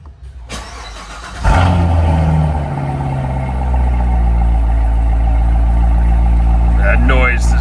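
A 2015 Chevrolet Corvette Z06 fires up with a sharp crank and a loud roaring surge, then settles into a heavy, steady, close rumble.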